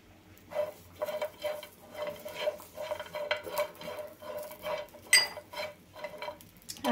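Grated dried coconut and garlic dry-roasting in a pan for a Maharashtrian drumstick masala, with a spatula scraping and stirring in a steady, repeated rhythm, close by and with no talk.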